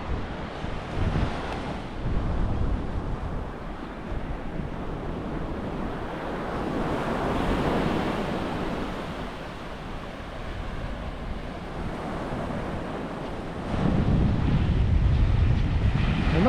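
Ocean waves and surf roll in at a North Stradbroke Island beach, a broad continuous wash with swelling crashes and heavy wind buffeting the microphone, a louder surge toward the end.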